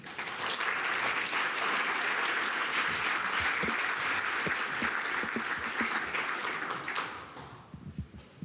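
Audience applause for award winners at the 2022 Innovator Awards ceremony, a dense, steady wash of clapping that holds for about seven seconds and then thins out and fades near the end.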